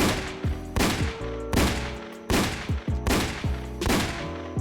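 Peacekeeper revolver firing in the Roblox Wild West game: six sharp, loud gunshots in a fairly even rapid sequence, each with a short echoing tail, heard alone without voices.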